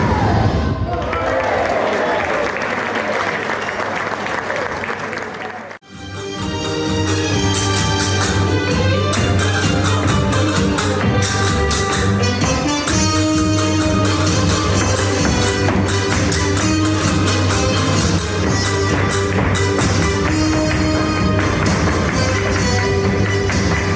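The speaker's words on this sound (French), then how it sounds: "Le spectacle se termine sous les olés et les applaudissements nourris." Loud crowd noise of applause and shouted olé cheers closing a dance show at a New Year's Eve event in Santa Susanna, with music playing throughout after a brief pause near the start.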